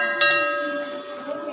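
A temple bell is rung a couple of times, bright metallic strikes with a long ringing tone that hangs and fades, fairly close with faint background murmur.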